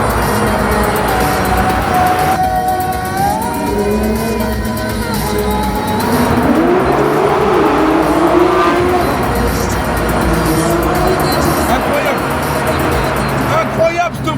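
Porsche 992 GT3 RS engine accelerating inside a tunnel, a loud, echoing engine note that climbs through rising revs, drops back and builds again, with speech over it.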